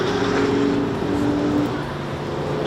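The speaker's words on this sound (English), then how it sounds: "This is an Amarok on the Nürburgring, for God's sake." A Volkswagen Amarok pickup laps the Nürburgring circuit with a steady, loud engine drone and road roar from inside, a sustained tone holding throughout without pause.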